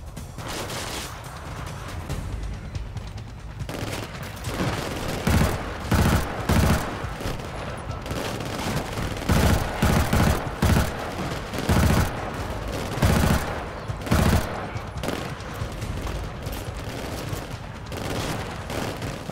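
Gunfire in the shooter video game Killzone Shadow Fall: sustained rapid bursts of automatic fire, loud and close, repeating almost continuously with short gaps.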